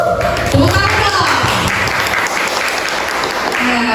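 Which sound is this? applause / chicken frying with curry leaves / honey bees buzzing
applause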